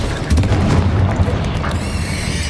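Confringo, the explosive spell in Hogwarts Legacy, landing with a deep booming blast followed by rumbling debris and a bright magical shimmer trailing off, with faint voices in the background.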